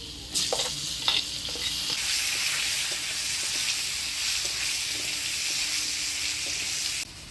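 Fried bitter gourd pieces go into hot oil with potatoes, turmeric and salt, setting off a loud continuous sizzle and frying hiss up close, with a few clinks and stirring scrapes at the start and no talk.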